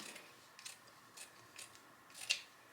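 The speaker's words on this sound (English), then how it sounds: "So I'm just going to fold this together and try to cut the best I can." Scissors snip through folded material for a Dollar Tree wood sled Christmas ornament, a few faint, soft cuts in a quiet room ending in a sharper, closer snip.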